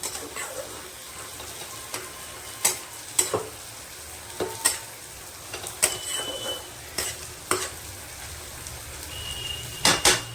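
A curry stirred in a pan after the lid comes off and the water has cooked out: repeated sharp scrapes and knocks of a spoon against the pan at irregular intervals over a quiet background sizzle.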